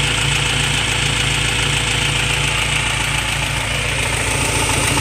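A modified car engine with a DIY intake runs with too much ignition timing, giving a loud, continuous close-up idle with a steady rhythmic pulse and no voices.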